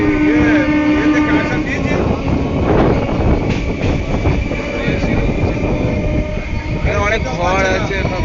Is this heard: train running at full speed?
yes